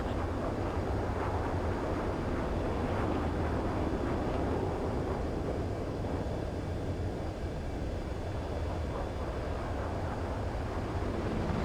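A fighter jet touches down and rolls along a runway in Ace Combat 7, heard as a steady, loud broadband engine roar with wind-like rushing, constant throughout and with no talk.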